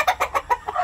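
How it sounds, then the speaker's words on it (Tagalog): A white pit gamecock rooster kept in a breeding pen clucks close by in a quick rhythmic series of five or six short, throaty notes with no talk over them. "Napakagaling po ng ano na ito, ng manok na ito."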